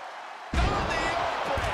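In WWE 2K23, a wrestler slams an opponent face-first to the mat, a sudden heavy thud after a brief lull, followed by crowd noise and commentary.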